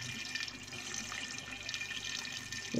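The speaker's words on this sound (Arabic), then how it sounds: "غادي نضيف انا الماء ديالي" Water pours into a pot to cook barley couscous with vegetables, a continuous splashing, gurgling stream that runs steadily without pauses, close by, and no one speaks.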